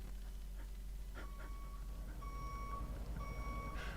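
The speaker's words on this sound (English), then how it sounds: "The truck is getting ready to get backed up." A truck's reversing alarm sounds as a series of steady, evenly spaced electronic beeps, moderately loud over low background rumble, with a dog barking and whimpering briefly near the start.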